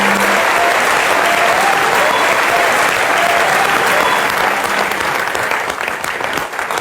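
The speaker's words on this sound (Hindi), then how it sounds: "एक बार जोरदार तालियां रजत सर के लिए।" An audience applauds loudly for Rajat, with dense, sustained clapping from a large crowd filling the whole stretch and easing slightly near the end.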